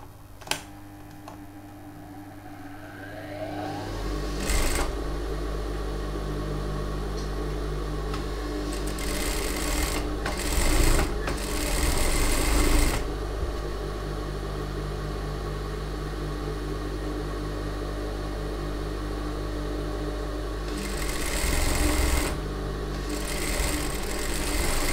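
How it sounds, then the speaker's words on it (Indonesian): Sewing machine stitching along folded, marked fabric, a steady mechanical whir running almost continuously near and loud, with brief surges in speed and no talking. "Kita jahit lagi sebelah ya."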